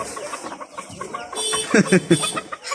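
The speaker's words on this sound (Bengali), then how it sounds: "দেখুন মুরগি দুটো ছেড়ে দেখাচ্ছি" Freshly released fancy chickens cluck in short, loud bursts near at hand, building toward the end, with a person talking in the background.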